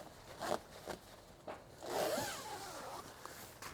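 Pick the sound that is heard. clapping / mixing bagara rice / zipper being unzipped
zipper being unzipped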